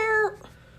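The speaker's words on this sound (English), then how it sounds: "One of my kitty cats." A cat gives one short, clear meow up close, tapering off after a fraction of a second into quiet room tone.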